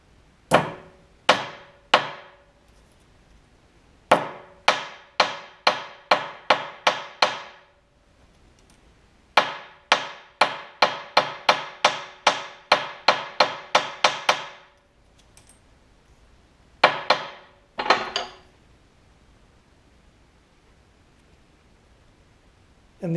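On a bent carburetor choke butterfly from a 1971 Sears 1100 watt generator, a small hammer taps out sharp, close metallic strikes in quick repeated series with brief pauses between bursts.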